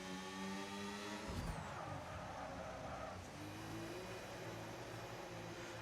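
An F1 race car in an F1 video game, driving into the pits at the Spanish GP: a steady engine whine that changes pitch as it slows and downshifts, with a brief burst of noise partway through.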